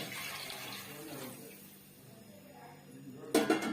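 Water splashes and pours briefly into a peanut tamarind soup near the end, after a stretch of quiet background with faint clatter.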